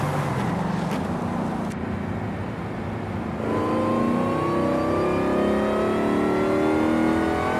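A car engine in the racing game Forza Horizon 5, fitted with a 7-speed dual-clutch gearbox, drones steadily, then revs and climbs through rising gear pulls, loud and close with no talk.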